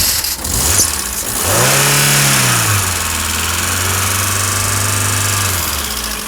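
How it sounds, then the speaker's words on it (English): A car engine under repair, tested after a vacuum fix, is revved briefly with a rising, then falling roar and settles into a steady, close idle that holds to the end. "you don't have to rev the nuts off it, just enough to create some vac"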